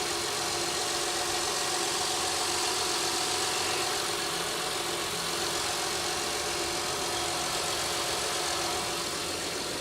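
A Honda 3.5 liter V6 VTEC engine idles steadily nearby, a constant dense mechanical hum with broad hiss and no voices over it.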